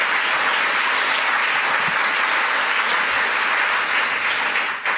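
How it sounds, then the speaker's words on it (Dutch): A hall audience at a political meeting breaks into loud, sustained applause, a dense wash of many clapping hands that continues without pause and fades slightly at the very end. "Floor Milikowski, dankjewel. APPLAUS."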